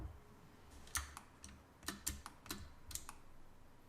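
Quiet keys clicking on a computer keyboard while the Alt key is held to rotate a view in a design program, a sparse run of soft, close taps at irregular intervals.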